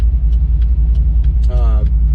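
A cammed C5 Corvette with headers, a catless X-pipe and a Z06 titanium exhaust rumbles loudly with a choppy, pulsing idle on a busy street, while a voice speaks briefly over it.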